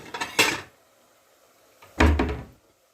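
Two short bursts of dishes being handled, ceramic clinks and a thunk of a plate set down, separated by a quiet pause.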